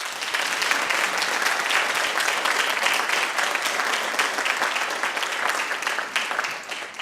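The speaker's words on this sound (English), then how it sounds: "Please join me in thanking them with a round of applause." Audience applause at a 2016 National Honor Society induction ceremony, a dense, sustained clapping that fills the room and keeps going, then thins slightly at the end.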